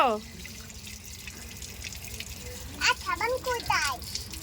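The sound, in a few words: water running while a child washes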